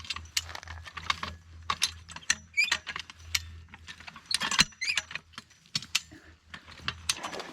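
A high-lift jack being pumped clicks in a steady series of light metallic ratcheting clicks and rattles, close and fairly quiet, with no talk over it.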